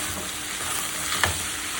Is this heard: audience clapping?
no